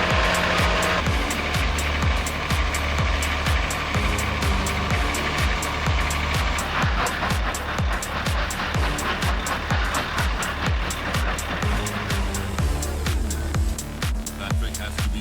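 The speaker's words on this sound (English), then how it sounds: "the Caterpillar's 730 roars like thunder" A Caterpillar 730 articulated dump truck's diesel engine roars loud and steady at a quarry, a deep rumbling drone that continues throughout under a layer of music.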